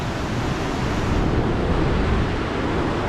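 Continuous sea waves wash onto a beach in Goa as a steady, full surf roar with wind buffeting the microphone, no voices, holding an even level throughout.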